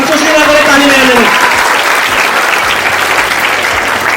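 A large audience claps loudly and continuously at a foundation event in India, a dense, close wall of applause with no gaps.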